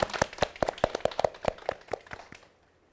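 Applause from a lecture audience after a science talk and Q&A session: a couple of seconds of scattered, fairly sparse claps at moderate volume, thinning out and fading to quiet.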